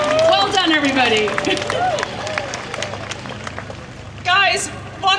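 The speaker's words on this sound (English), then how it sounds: "one more massive round of applause for Liz and basically the future." Outdoor crowd at a clean water protest march in London breaks into applause and cheering, a burst of clapping near the start and another swell near the end, with a voice shouting over it.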